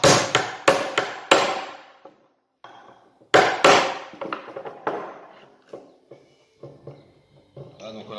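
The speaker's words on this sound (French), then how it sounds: "je prends un vieux burin qui ne coupe plus" An old, dull chisel struck with a hammer to crimp a cable lug: a close series of sharp metallic blows, several in quick succession, a pause, then more strikes fading into lighter taps, with someone speaking between hits.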